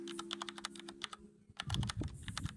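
Fingers type Java code on a computer keyboard in quick, uneven bursts of close, crisp key clicks, with a brief pause in the middle before the clatter resumes amid low room rumble.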